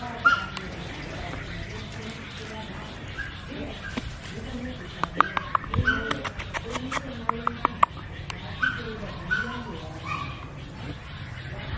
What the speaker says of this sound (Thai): ลูกหมาเป็นสิบเลยฮะ